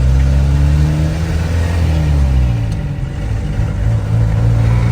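A 1975 Mk1 Ford Transit diesel engine idling roughly, then revving up and settling back, loud and close with a steady low drone, with no talking over it.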